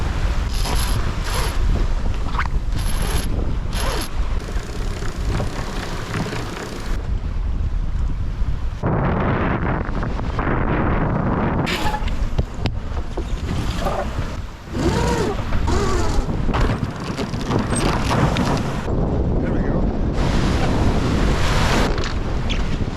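A sailboat with a reefed mainsail beating upwind, its hull pounding into waves, under steady, loud wind buffeting the microphone, with bursts of water rushing and slapping along the hull throughout.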